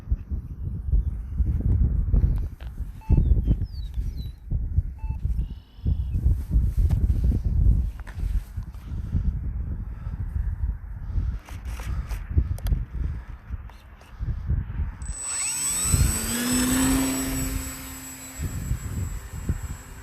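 A Mamba10 RC aircraft takes off on a windy day, its motor rising into a steady high whine that climbs in pitch over the last few seconds, preceded by footsteps and wind buffeting outdoors.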